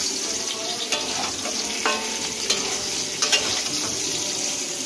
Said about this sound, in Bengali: বেগুনগুলোকে ওই জন্য লাল করে ভেজে নেব।